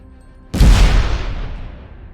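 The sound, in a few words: explosion sound effect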